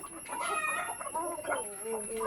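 Chickens clucking in a steady, busy stream, close by, with overlapping calls and a continuous background hum.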